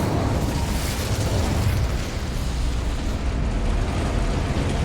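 A fire spell cast in the Hogwarts Legacy video game makes a loud, roaring burst of flame that holds as a continuous dense rumble and whoosh for several seconds.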